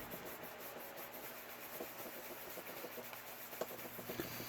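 Leather colored with Fiebing's dye is rubbed firmly with a cloth, giving a steady, close, quiet scraping friction with small irregular scuffs and a few sharper ticks, no voices.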